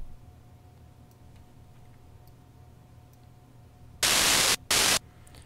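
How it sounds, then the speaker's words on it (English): A steady hiss of synthesizer noise oscillator static in Logic ES2, then two loud bursts of bright, harsh white noise cutting in near the end. "so here's the noise that we're starting with."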